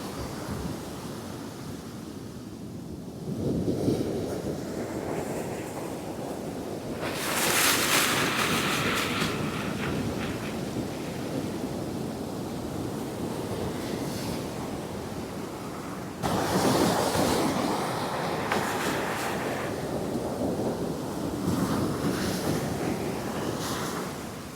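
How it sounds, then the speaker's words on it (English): Big Pacific waves break along the shore, a loud continuous roar of surf with surges of crashing water swelling and fading, mixed with wind rumble on the microphone and no talking. "Damn big waves out there right now."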